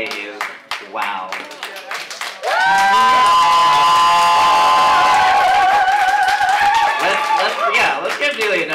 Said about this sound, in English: Let's give Neilee another round of applause.